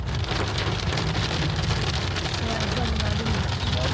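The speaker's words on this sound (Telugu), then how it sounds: "కంటిన్యూస్ రెయిన్ కొడుతుంది." Heavy rain pours continuously at Ananthagiri Hills in Vikarabad, a dense, loud, unbroken roar of drops striking surfaces close by.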